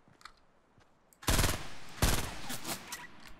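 Gunfire in the battle royale video game Fortnite: two loud, dense bursts of rapid shots crashing in close by after a quiet stretch, the second volley trailing off into scattered reports.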